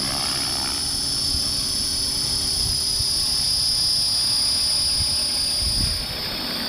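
A T-Rex RC model helicopter flies nearby with a steady high-pitched rotor and motor whine, continuous throughout and easing slightly near the end, with no voices.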